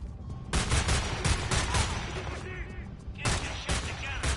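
Rapid bursts of rifle fire in the first-person shooter Homefront: Revolution, several volleys separated by short pauses, with game characters yelling between the shots.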